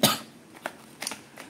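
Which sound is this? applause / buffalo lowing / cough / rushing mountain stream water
cough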